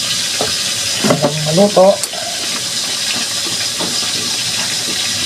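A pot of water boils hard with okra in it, giving a steady hiss and bubbling throughout, while a voice speaks briefly over it.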